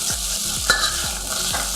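Onions hit a hot stir fry pan and crackle with a loud, close sizzle, while a utensil scrapes and stirs in quick repeated strokes.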